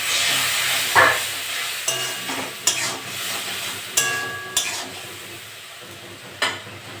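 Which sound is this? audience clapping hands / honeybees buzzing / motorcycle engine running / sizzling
sizzling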